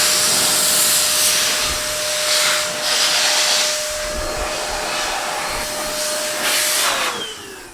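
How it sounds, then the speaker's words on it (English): A steam cleaner runs during car detailing on a rainy day, a loud, steady hiss of steam with a faint whining tone underneath, close by and continuous. "I got my steamer going."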